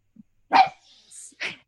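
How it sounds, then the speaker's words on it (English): A couple of short, sharp dog barks nearby, with a brief quieter whine between them. "my dogs might be barking here"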